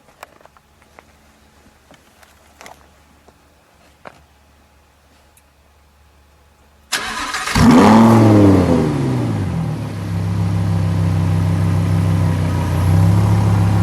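A powerful Lamborghini Huracan LP 610-4 V10 engine cranks and roars to life after a quiet stretch with faint ticks, then revs sharply and settles into a loud, steady idle close by.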